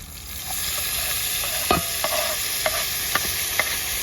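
Tuna roast being stirred in a pan with curry leaves and tomato: a steady sizzle with several sharp spatula scrapes and clacks spaced a few tenths of a second apart.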